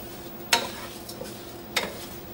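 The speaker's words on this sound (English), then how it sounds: "we're going to saute the quinoa until it gets dry" Quinoa sautéing in warm oil, a soft steady sizzle broken by two sharp stirring scrapes of the utensil against the pan, close and fairly quiet with no voices.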